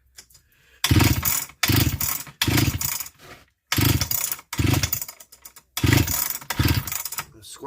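A 1970s Swedish chainsaw with a bad coil fails to start: about seven loud, close bursts of sputtering engine noise come in a steady rhythm, each a half-second or so, separated by short silences.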